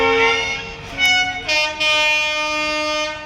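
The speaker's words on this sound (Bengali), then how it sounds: "আর একটা ট্রেন লেগে আছে এটা কোথায় যাবে" A train at Rampurhat railway station sounds a long, loud horn close by, its steady tones holding for several seconds with a brief break near the start, over the rumble of the platform.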